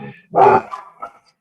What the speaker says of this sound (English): sorry for the dog in the background.